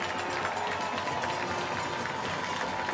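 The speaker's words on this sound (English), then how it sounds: "as you can hear the crowd starting to get hyped up" Crowd at a high school football playoff game, Plant at Lakeland, growing excited before kickoff: a dense, steady roar of many distant voices and cheering that fills the air evenly, with no single voice standing out.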